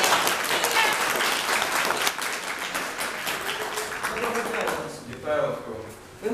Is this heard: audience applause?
yes